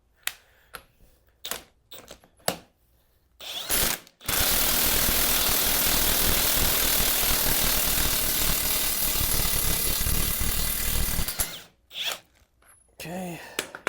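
A clamshell puller works an old bearing off a pinion, making a loud continuous ratcheting, grinding rush for about seven seconds, framed by scattered clicks and clunks of tool handling before and after.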